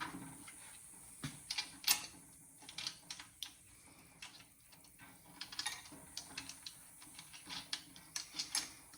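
Nuts and washers threaded and fitted by hand onto an RBG 712 blade grinder while changing its grinding wheel, giving quiet, irregular metallic clicks and small ratcheting taps spread across the whole stretch, close by, with no talk.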